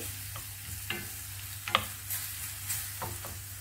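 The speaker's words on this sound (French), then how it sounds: "Je vais tout mélanger et après je laisse cuire." Chicken and potatoes being stirred in a frying pan, a spoon scraping and clacking a few times over a steady close sizzle, with no talking.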